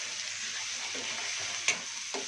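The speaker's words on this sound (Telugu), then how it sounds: "బాగా మిక్స్ చేయండి." Raw banana pieces fry in a curry pan with a steady close sizzle as they are stirred, marked by a couple of brief scrapes of the spoon, with no talk.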